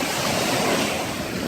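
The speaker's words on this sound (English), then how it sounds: "The waves have been crashing in." Strong wind and large waves, around six to seven feet, crash continuously onto a Canadian shoreline, a loud, dense, unbroken roar of surf and gusting wind with no voices.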